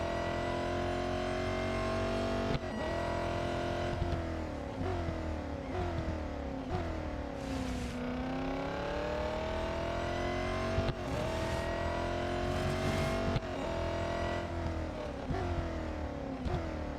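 Race car engine in Real Racing 3 drones steadily and loudly throughout, pitch sweeping up and down with gear changes and revving, with no talk over it.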